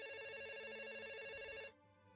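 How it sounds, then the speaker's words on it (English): A telephone rings in the mystery video game 2000 to 1: A Space Felony, a bright electronic trill that sounds steadily for under two seconds, then cuts off abruptly, leaving faint quiet behind. "Alright, phone's ringing."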